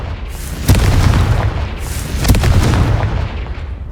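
Confringo explosion spells going off in Hogwarts Legacy, two loud booming blasts with rumbling tails about a second and a half apart, close and heavy, with no talking.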